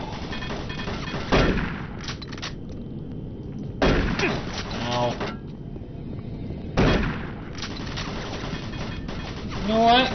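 Heavy gunfire in Doom 3: loud bursts strike around 1.5, 4 and 7 seconds and again near the end, each one trailing off into a rumbling tail over a steady background of game noise. There is no speech.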